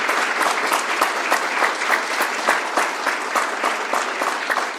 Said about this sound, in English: a great big round of applause for some outstanding volunteers